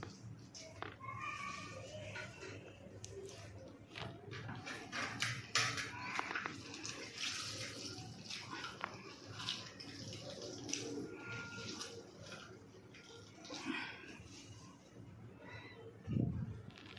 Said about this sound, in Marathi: त्यातलं सर्व पाणी काढून घ्यायचं.